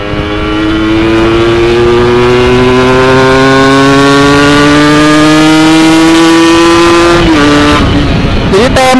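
A motorcycle fitted with a TM32 carburetor revs hard close by in a loud, steady, rising drone. The pitch climbs smoothly and then drops briefly near the end.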